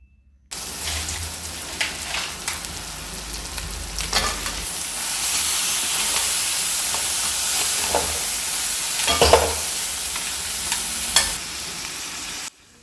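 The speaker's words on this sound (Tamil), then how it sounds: "இப்போது நம்ம கழுவி க்ளீன் பண்ணி வச்சுருக்க நண்டை சேர்த்து நல்லா கிளறிக்கலாம்" Cleaned crab pieces sizzle and fry in masala while being stirred in a pan, a loud, steady hiss with scraping stir strokes and brief bursts of spatter, close up and without talk.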